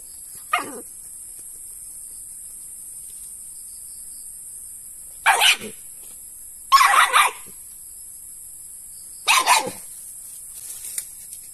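A dog fighting a snake on a farm lets out four sharp, loud barks and yelps in separate bursts, with quiet gaps between them.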